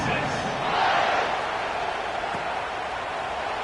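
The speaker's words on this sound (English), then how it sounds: "this crowd is buzzing after that last score." A stadium crowd in the College Football 26 video game buzzes in a dense, steady roar after a touchdown in a UTEP vs Texas matchup, swelling slightly early on with faint voice under it.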